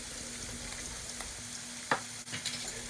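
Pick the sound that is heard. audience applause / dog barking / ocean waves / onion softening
onion softening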